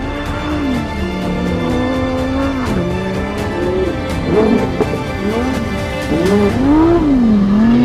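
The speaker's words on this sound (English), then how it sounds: "You drift the car easy around the corner." A Lamborghini Huracán Sterrato engine revs and wavers in pitch as the car drifts through a corner, steady and fairly loud with rising surges near the end.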